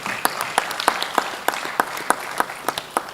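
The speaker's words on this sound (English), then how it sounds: "Please give a round of applause to them." At a school competition, a modest audience gives a guest school a round of applause, sparse but distinct claps landing in a rough repeating rhythm against a light background patter.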